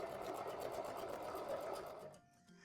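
Sewing machine stitching fabric pieces, a fast even whirring hum with rapid needle pulses up close for about two seconds before slowing and stopping.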